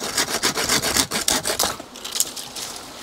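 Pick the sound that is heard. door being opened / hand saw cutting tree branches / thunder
hand saw cutting tree branches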